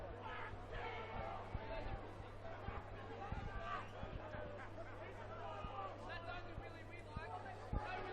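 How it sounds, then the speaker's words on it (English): Crowd racket at a rugby league open grade grand final between Kurri Kurri Bulldogs and Lakes United, a distant murmur of spectators with scattered thuds, steady and fairly faint beneath a commentator's voice. "Plenty of racket being made in the crowd."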